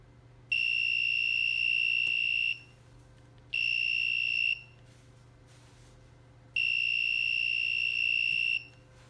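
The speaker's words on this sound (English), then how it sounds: "then the LED and the buzzer would both turn on." An electronic buzzer alarm on an ultrasonic sensor security system with an LED sounds three times, with high piercing tones lasting one to two seconds each and short pauses between, over a faint steady hum.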